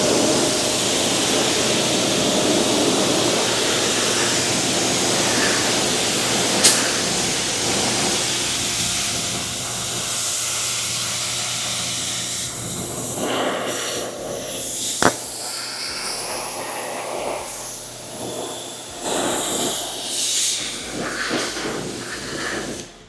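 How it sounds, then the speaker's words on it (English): Steady broadband water spray rinses wheel and tire cleaner and loosened brown grime off car wheels, a continuous close hiss with a few brief bursts and some variation toward the end, no voices. "just gonna rinse this off"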